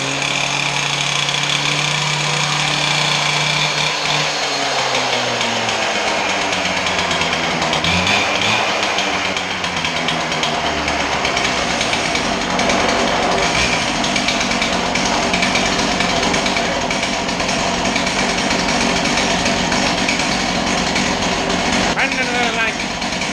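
Power tools cut into a concrete shop floor to set a chassis dyno in the ground, giving a loud, continuous grinding roar with shifting engine-like tones over the full length, voices faintly talking underneath.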